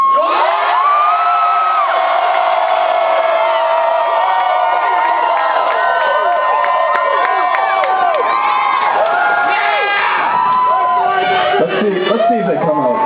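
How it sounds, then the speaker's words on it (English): A crowd of students at a higher education rally cheers and whoops loudly and continuously, with shouting voices layered over a dense roar of noise. "give a round of applause to every student who came here today"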